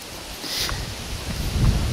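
Wind buffeting a microphone in a continuous broad rush, loud and close, with gusts swelling toward the end and no speech.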